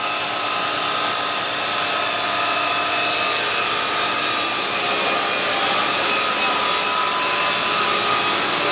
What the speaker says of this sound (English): Here's the blade grinding line.